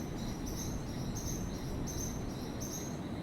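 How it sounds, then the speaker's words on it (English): Frogs calling in the Amazon rainforest, a steady pulsing chorus of high repeated calls in regular bursts over a dense continuous ambient hum, fairly near and even in level throughout. "The more I listen to the sounds like frogs,"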